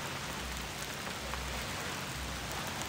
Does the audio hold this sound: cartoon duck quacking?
no